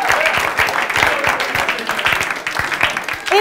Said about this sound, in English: Give it another round of applause.